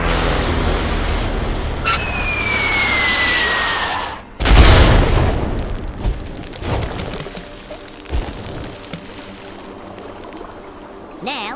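Bombs go off in the video game Worms W.M.D: after a whistling fall, a heavy booming blast hits and rumbles, then smaller thuds and debris noise follow over game sound effects.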